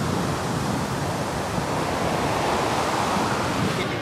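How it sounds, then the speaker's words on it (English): Rough surf breaks along a beach at Cabo San Lucas, Mexico, where the water is too dangerous for swimming, making a steady, unbroken roar of crashing waves that fills the full four seconds with no voices. "The waves are crazy."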